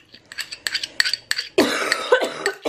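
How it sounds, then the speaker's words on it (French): Person coughing in a kitchen while cooking, a burst of several short, close coughs followed by a harsher, longer run of rough coughing and throat clearing. "Excusez-moi, je tousse encore."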